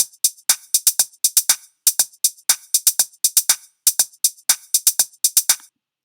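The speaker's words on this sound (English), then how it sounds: "So from the last video, we created a drum pattern." A programmed EDM drum pattern plays back in clean, dry, repeating bursts of sharp high percussive hits, grouped in quick clusters with short gaps, steady and loud with no voices.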